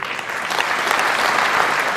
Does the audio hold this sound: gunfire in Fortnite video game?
no